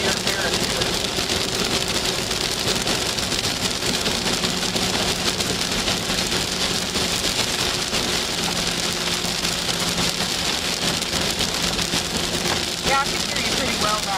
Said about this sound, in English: the rain is hitting the windshield, which is just a few inches away from the mic